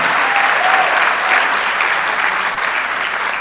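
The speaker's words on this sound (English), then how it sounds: "Keep clapping for her." Loud, continuous clapping fills a hall as the audience at a medical and dental practitioners' induction ceremony keeps applauding, steady and close without pause.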